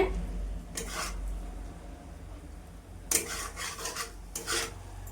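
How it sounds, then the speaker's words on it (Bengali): A spatula scrapes and stirs prawns with leafy greens and vegetables in a pan cooked without water, giving several short raspy strokes against a faint sizzle. "একটু নাড়াচাড়া করে নিলে হয়ে যায়"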